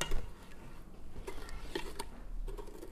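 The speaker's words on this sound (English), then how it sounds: "Just stirring constantly till it boils." Chunky mustard pickle mixture stirred constantly in a pot on the heat, with faint scattered clinks and scrapes of the utensil against the pot over a low background, no talk.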